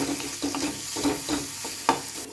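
Crushed ginger and garlic sautéing in coconut oil for kadala curry, a soft sizzle broken by several rhythmic stirring scrapes of a spoon against the pan, close and without talk.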